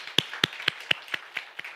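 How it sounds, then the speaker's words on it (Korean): Congregation clapping together in a church during a Wednesday evening service, a steady rhythmic beat of about eight claps in under two seconds, close and moderately loud. "우리 크게 박수로 한번 환영합니다"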